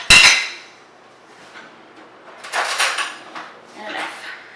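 Measuring cups and spoons clatter and clink in a kitchen while muffins are being prepared, a sharp metallic knock at the start followed by a few softer rattling bursts, close and fairly loud.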